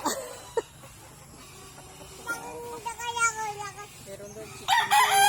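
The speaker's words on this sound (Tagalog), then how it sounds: "Na-miss mo si chicken? Si chicken ni Lolo?" A rooster crows in a rural Bicol province yard, a clear cock-a-doodle-doo rising over faint background bird and farm sounds, with another loud crow starting near the end.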